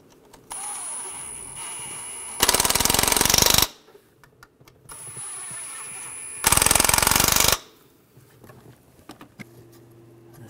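Power tool tightening bolts on a 2006-2009 Mercedes-Benz E350 3.5L V6 engine during a knock sensor replacement: two loud, close, rattling bursts of about a second each, separated by quieter handling sounds.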